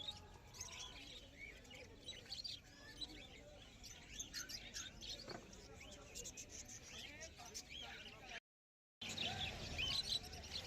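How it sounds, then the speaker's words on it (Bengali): Caged budgerigars and conures chirping at the Galiff Street bird market in Kolkata, a faint, busy scatter of tweets and calls heard under people talking, with a brief dropout near the end. "এখানে প্রচুর পরিমাণে বদ্যি পাখির কালেকশন রয়েছে।"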